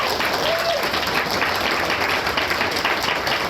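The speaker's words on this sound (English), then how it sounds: "Please give Alexis Wright a round of applause." A festival audience applauds author Alexis Wright at a writers' event, giving loud, dense, sustained clapping that fills the room evenly from start to finish.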